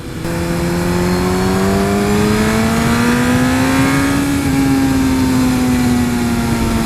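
A small motorcycle accelerates hard along a straightaway, its loud engine holding a steady, close drone that climbs in pitch, eases slightly and holds, with no talk over it.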